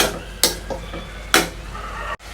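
Metal utensil scraping and clanking in a cooking pan while beans with onion fry, two sharp strokes about a second apart with quieter stirring between, close by and with no talk.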